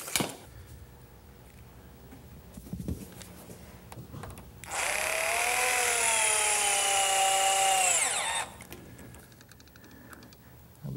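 A power tool drives fasteners into a pressure-treated lumber frame: a few clicks and knocks, then a loud sustained whine of about four seconds that winds down, followed by quieter handling noises.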